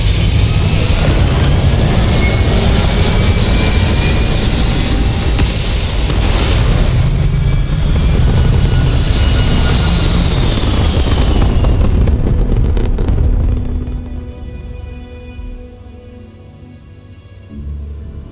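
A spaceship lifting off in the video game Starfield gives a loud, sustained, rumbling engine roar with crackling bursts that holds steady for about thirteen seconds, then drops away into a quieter low hum.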